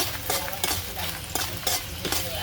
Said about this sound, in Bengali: এখন আমি শুকনো মরিচটা তেলে ভেজে নিচ্ছি